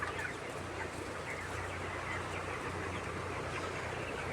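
Broiler chickens in a poultry farm shed on a hot day under misting, a dense continuous murmur of clucking from many birds with a steady low hum underneath, no talk.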